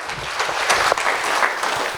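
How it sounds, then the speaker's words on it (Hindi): An audience at a first-anniversary celebration gives enthusiastic applause to thank a presenter, dense close clapping sustained for the whole stretch with no speech over it. "एक बार सभी लोग मिलकर जोरदार तालियों से धन्यवाद करेंगे"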